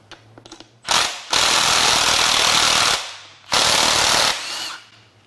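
Impact tool unbolting the gear on a BMW N63 oil pump, two loud rattling bursts of about two and one seconds, close and harsh, with quiet pauses between.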